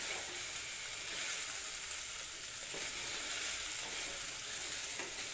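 Okra (lady fingers) fry for a palya in a pan, a continuous bright hiss and sizzle held at a steady level, with faint stirring underneath.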